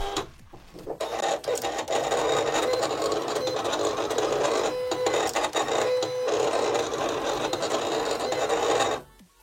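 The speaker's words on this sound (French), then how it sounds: "je l'ai inséré dans la Cameo 4 et j'ai lancé la découpe" A Silhouette Cameo 4 cutting machine slicing copper tape, a close steady mechanical whirring and scratching hum with brief stepper-motor pauses and shifts, starting up and stopping near the end, with no talk.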